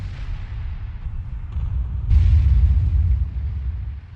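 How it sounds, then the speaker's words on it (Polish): A deep, heavy artillery blast in a video game booms about halfway through and rolls off into a low rumble over a steady background drone. "Arta strzeliła."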